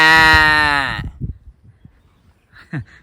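A man imitates the call of a cow's calf with one long, loud, drawn-out voiced bleat, followed by a few soft clicks and a brief faint cry near the end.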